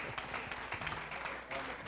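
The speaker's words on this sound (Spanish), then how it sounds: "Un aplauso al Señor." Church congregation applauding, a brief, faint wash of scattered clapping heard alone.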